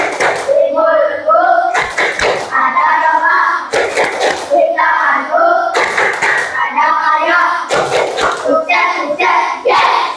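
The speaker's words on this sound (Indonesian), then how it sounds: "Ya, tepuk tangan untuk kita semua." A classroom of children performs the 'tepuk sukses' chant, singing in unison and breaking into loud rhythmic clap patterns at regular intervals, the claps sharp and close.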